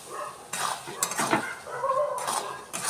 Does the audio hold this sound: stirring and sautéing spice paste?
yes